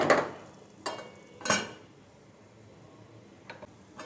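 Masala spices scrape and stir in a pan with a soft sizzle underneath, a few louder spoon strokes against the metal, close and unhurried.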